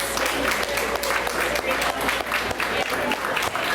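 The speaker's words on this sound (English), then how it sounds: "one more quick round of applause for all of the amazing teachers" A school board meeting audience gives a round of applause for teachers, continuous crowd clapping close and fairly loud, with voices mixed in beneath.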